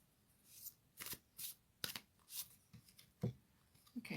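An oracle card deck from the Moonology line being shuffled by hand: a quiet series of short riffling bursts and soft card flicks in an irregular rhythm, close by, with no voices.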